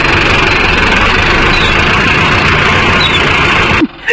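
A Mahindra Arjun Novo 605 DI tractor engine idles in neutral, a loud, steady, close rumble that continues unbroken until a brief dip at the very end.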